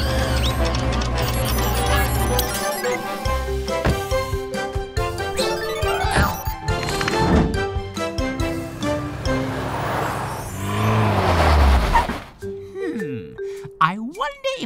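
A cartoon tow truck revs and drives off amid busy animated sound effects and music, the motor sound rising and then sweeping away, with characters talking over parts of it.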